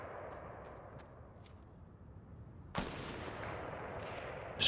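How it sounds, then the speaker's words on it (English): A gunshot rings out in the Fortnite video game: a sudden sharp crack that leaves a lingering noisy tail, with a few faint ticks before it and another burst at the very end. "A gunshot."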